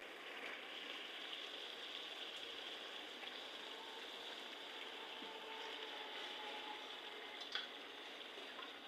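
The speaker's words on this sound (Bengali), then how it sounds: "এখন মাংসটা ভালোভাবে কষাই নিব।" Desi chicken sizzles in a pan with spices as it is stir-fried for a bottle gourd curry, giving a steady, fairly quiet hiss with faint stirring and no voices.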